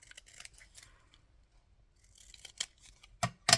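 Scissors snip through the edges of paper in a few quick, close cuts, with quiet pauses between them and a sharper pair of snips near the end.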